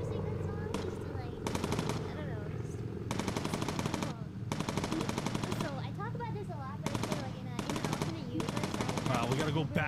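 Rapid machine-gun bursts from turret gunners in the video game Bomber Crew, loud and repeated in stuttering volleys over steady engine drone, with excited voices talking throughout.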